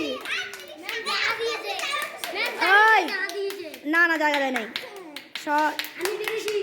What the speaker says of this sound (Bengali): হ্যাঁ, গুড, হাততালি।